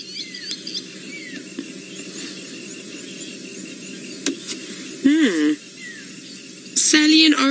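Birds call around a resting male leopard on an evening safari drive in the African bush. Thin chirps and squeaky calls come from nearby and further off, with a few louder close squeals, under a guide's quiet commentary.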